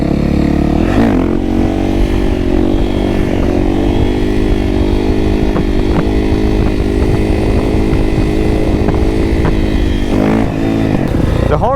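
Motorcycle being ridden on a summer ride, its engine droning loud and steady throughout with slight shifts in pitch as the throttle varies.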